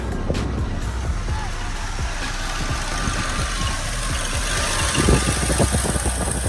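A Chevy box car engine with a possible overheating fault runs steadily up close, a continuous low rumble with rough mid-range knocking, and a slight rise in loudness near the end.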